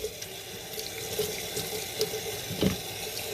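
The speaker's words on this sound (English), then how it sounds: "I'm going to turn my hot water back on" Hot tap water runs steadily into a sink, rinsing soap suds out of freshly washed Shetland wool, a continuous close splashing gush with no talking.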